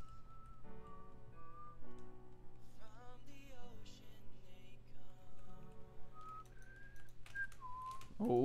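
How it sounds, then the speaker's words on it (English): Someone whistles a wandering tune close to the microphone during a Blitz Survival Games recording session, steady melodic notes over a faint background hum, with no talking. "So you forget, you just stop talking. And you just start whistling."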